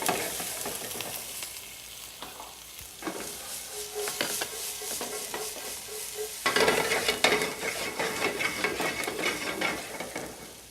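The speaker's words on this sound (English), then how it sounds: "Saute that for a minute." Sweet Maui onion sautés in butter and olive oil in a pan, a steady soft sizzle with utensil stirring scrapes and taps, growing louder and brighter partway through, with no talking.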